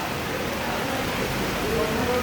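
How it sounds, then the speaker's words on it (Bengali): A heavy evening downpour after a hot day, a steady, fairly quiet wash of rain noise that stays even throughout. "মুষলধারে বৃষ্টি হচ্ছে"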